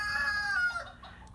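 Chickens in a snowy yard with melting snow, giving a short, moderately loud burst of clucking and crowing-like calls that fades into quieter background sound.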